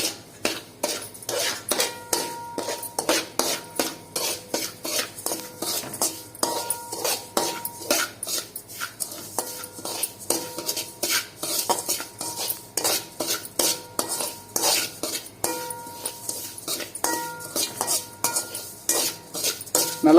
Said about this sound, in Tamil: இப்போ ரவையை போட்டு வணக்கிறோம் நல்லா நெய்யிலேயே